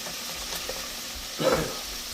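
Fish pieces frying in a deep fryer basket in hot oil. The bubbling sizzle stays fairly quiet and even, with a short louder burst of crackle near the end.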